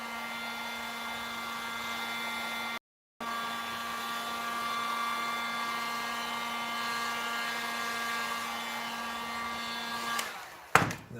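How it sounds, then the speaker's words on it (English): A heat gun blows hot air in a steady, continuous whine with a strong tonal hum, held near and loud for about ten seconds, broken by one short cutout and ending in a few clattering knocks. "I'll hit the back with the heat gun"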